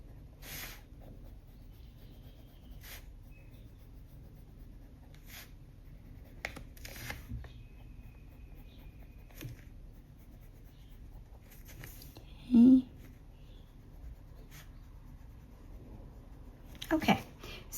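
A Polychromos colored pencil shades very lightly across textured paper, making soft, faint scratchy strokes in short bursts with pauses, close by, plus a couple of louder handling knocks.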